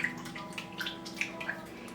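Soaked shiitake mushrooms and squid being rinsed in water make a steady wash of running, sloshing water with a few light splashes and clinks, soft and close, with no talking.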